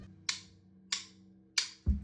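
Drum fill from a song on a kit: three sharp, evenly spaced cymbal or snare hits ending in a deep tom or kick thud, played alone and fairly quiet.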